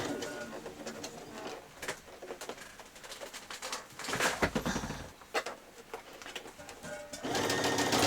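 Sewing machine stitching gathered fabric for a child's dress, a steady close mechanical whirr that runs in bursts and pauses, with short breaks for handling the fabric and a few bird calls or coos in the background.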